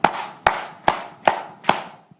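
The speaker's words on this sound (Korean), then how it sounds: "박수 5번 더 크게 시작." An audience at a revival meeting claps together five times, loud and crisp, at a steady beat of roughly one clap every 0.4 seconds, ending in silence.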